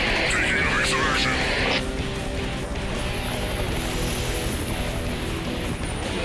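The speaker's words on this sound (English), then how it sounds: "Where'd that chopper go?" Helicopter in the Duke Nukem: Manhattan Project video game: a loud, continuous rotor and engine roar that fills the whole stretch, with a brief brighter burst at the start before settling into a steady drone.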